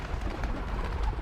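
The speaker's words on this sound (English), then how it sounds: "There's our little pigeons." Pigeons cooing close by with crows near, a soft continuous murmur of low coos over gentle outdoor background noise.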